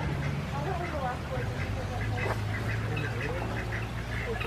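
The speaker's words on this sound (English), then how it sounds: "Got some ducks over there." Ducks quacking beside a creek at a zoo in North Georgia, several calls scattered over steady outdoor background noise, with people talking nearby.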